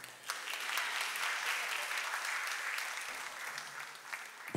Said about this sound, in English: You're free to clap.